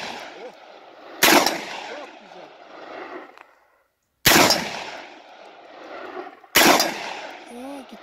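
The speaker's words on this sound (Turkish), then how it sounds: "Şimdi bizim oğlan atış yapıyor." Three loud, sharp blasts from an XTR 12 shotgun, spaced a few seconds apart outdoors, each with a booming tail and echo, with brief talk between shots.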